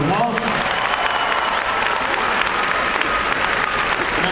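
Steady crowd applause at a Barack Obama campaign rally in Missoula, Montana, a dense wash of many hands clapping continuously from a large audience, with cheering mixed in.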